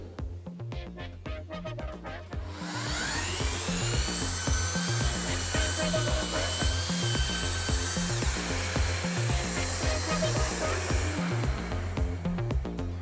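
A Festool Planex LHS 225 long-reach drywall sander with a CTL 36 dust extractor runs close by, a steady high motor whine over a low airy rumble that starts after a short ramp and holds evenly to the end.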